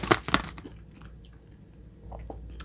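A bite into a crispy Popeyes chicken nugget gives two sharp close crunches, followed by softer chewing clicks in a quiet room.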